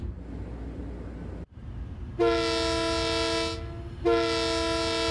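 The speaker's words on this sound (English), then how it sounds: "Two honks for Sco in the chat" Two long, loud train horn blasts in Train Sim World 4 on a New York City commuter route, over a steady rumbling background, separated by a brief gap.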